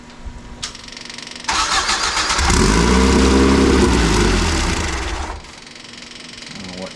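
An old truck engine cranks and catches after its carburetor jets were loosened, then revs up to a loud, steady roar for about three seconds before dropping back to a rough, low idle.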